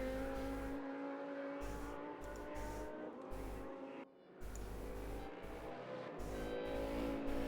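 A GT race car engine at Silverstone in a sim racing game holds a loud, steady, buzzing drone. It drops out briefly once under heavy braking, then rises again with rhythmic pulses as the car accelerates.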